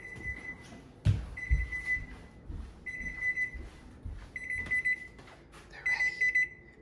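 A kitchen timer rings in repeated bursts of high, shrill beeping, separated by short gaps, over faint household clatter and thumps nearby.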